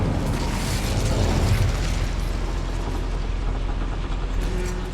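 A fiery Incendio spell blast from the Hogwarts Legacy video game, a dense, continuous rumbling burst that stays loud and steady throughout, with deep low booming under crackling noise.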